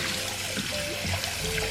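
Warm water running from a tap for washing makeup off a face, a continuous close splashing trickle with small gurgles, steady and fairly loud throughout.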